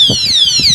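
A padlock alarm shrieks loudly and close, a piercing electronic siren with a sweeping, wavering pitch that fills the short moment.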